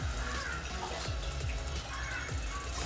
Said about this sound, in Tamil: எந்த டம்ளரில் அளந்தீங்களோ அதே டம்ளரில் தான் நம்ம தண்ணி ஊற்றிருக்கோம்